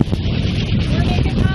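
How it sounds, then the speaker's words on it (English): Wind gusting across a sailboat at sea, a steady broadband rush and buffeting against the microphone, loud and continuous throughout, with faint wind-generator whine and possible water noise beneath. "So you can probably hear some of the wind starting to blow through."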